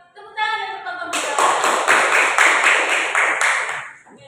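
Classroom applause for a student group that has just presented, with many hands clapping together in a dense, steady patter for about four seconds, alongside a faint ringing tone.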